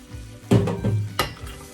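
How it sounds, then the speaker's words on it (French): Roasted pistachios tumble into sugar syrup cooked to 121 degrees in homemade pistachio paste, giving a quick sizzling splash followed by a couple of scraping stirs in the pot. "À 121 degrés, on ajoute nos pistaches torréfiées"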